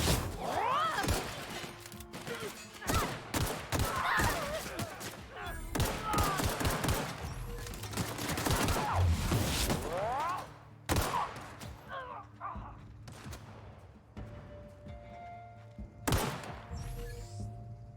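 A heavy gunner firing in a sci-fi video game, rapid bursts of loud gunfire with thuds and shattering hits in the first half, thinning to scattered shots and echoing impacts later.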